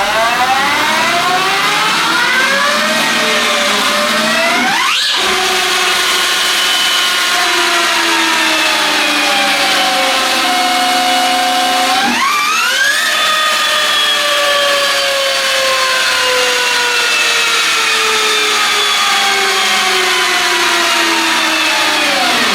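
Energica EGO RS electric motorcycle accelerating, a loud electric motor whine sweeping upward in pitch, dropping at each gear-like pause, then climbing again, up close with no talking.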